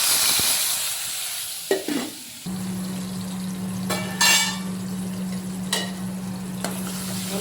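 Tomatoes, chillies and curry leaves hit hot oil in a bowl while tempering Gujarati dal. A brief clatter gives way to a steady, close sizzle with a few stirring scrapes, and no one speaks.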